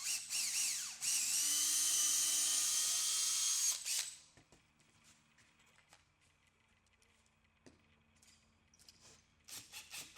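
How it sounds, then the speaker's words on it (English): A power drill whines loudly for a few seconds while pre-drilling wood for deck railing, then stops, leaving quiet handling noises and a brief burst of drilling at the end. "you're going to want to pre-drill so that it doesn't split when you put your screws through"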